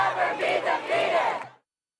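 Protesting students at Columbia University in Manhattan chant slogans together and clap beside a tent camp, a loud massed crowd voicing rhythmic shouted phrases for about a second and a half before cutting off.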